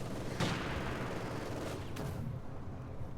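A heavy machine gun fires in the real-time strategy game Company of Heroes 2, a fairly quiet, continuous rattle of shots within a noisy battlefield din, with a couple of sharper impacts.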